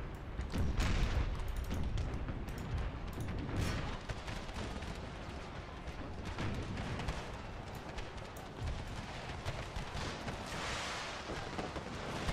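A continuous roar of artillery and gunfire in an American Civil War battle from the Empire ACW mod, with dense overlapping booms and crackling volleys, steady and loud for the whole stretch with no clear pauses.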